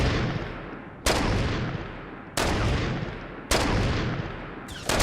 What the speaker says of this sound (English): We just keep rapidly firing.